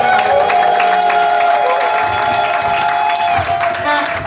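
Audience applause and crowd noise at an official visit of the OCC director general to the Lukala agency, honoring the provincial director; steady dense clapping throughout with tonal hum and voices faintly underneath.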